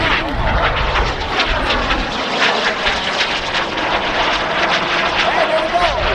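A jet aircraft at an airshow roars overhead in a loud, steady, broadband rush that builds slightly as it passes, with crowd noise and an announcer's voice underneath.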